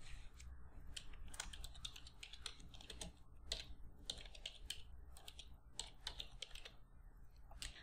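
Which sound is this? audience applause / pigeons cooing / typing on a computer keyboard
typing on a computer keyboard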